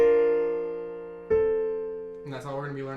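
Piano playing a right-hand passage of "The Star Spangled Banner": two sustained notes ring and decay, then a short quicker figure, close and clear, with no talking.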